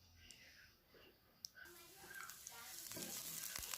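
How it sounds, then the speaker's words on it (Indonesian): Garlic, two cloves, frying in oil in a wok, a soft hiss of sizzling that starts faintly and grows steadily louder and fuller toward the end, with light stirring clatter mixed in. "masukkan minyak ke dalam wajan, kemudian 2 siung bawang putih"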